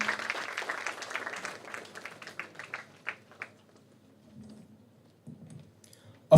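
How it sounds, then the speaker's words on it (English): An audience at a national entrepreneurship conference applauds a guest of honor, a burst of clapping that thins out over about three seconds before the room falls nearly silent. "we give a big round of applause to him"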